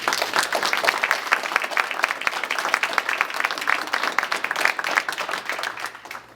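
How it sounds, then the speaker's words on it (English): A crowd applauds the speaker's parents, standing at a Georgia State Senate District 22 campaign event, steady dense clapping from many hands that fades out at the end. "Please give them a round of applause"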